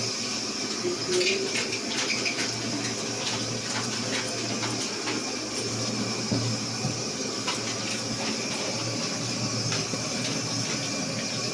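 Potatoes washed in water in a home kitchen make a continuous close splashing and rushing, with light knocks and scrapes throughout and a low hum underneath.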